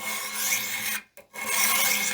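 A knife edge is honed on a Wicked Edge Generation Pro 4 sharpener stone, around 800 to 1000 grit, giving a steady close rasping scrape that stops briefly midway and then resumes with no talk.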